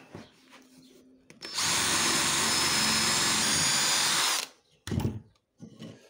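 Power drill boring an angled hole into wood for a wood-and-steel dresser build, one loud sustained three-second whir close by, followed by a couple of short handling knocks.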